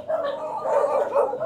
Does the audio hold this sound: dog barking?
yes